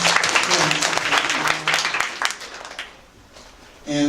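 A crowd at a university sorority chapter event breaks into loud, dense applause that holds for about three seconds, then thins and fades before a voice comes back in at the end.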